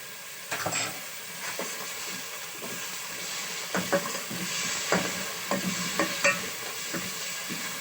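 Vegetables for matar pulao with green chillies sizzle in hot ghee while a spoon scrapes and stirs the pan in irregular strokes, close and steady, with no talking.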